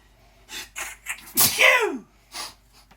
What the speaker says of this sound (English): But notice that I sneezed away from the food